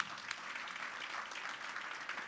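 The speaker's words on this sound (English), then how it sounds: "let's give Olivia another round of applause, everyone." Audience applause at a morning business networking event, a steady, moderately distant patter of many hands clapping with no voices over it.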